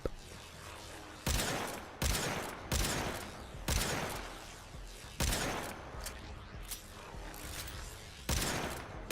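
Euphona Prime being fired in Warframe, about eight heavy single shots spaced roughly a second apart, each a loud sharp blast trailing into a mechanical rumble, with no talking.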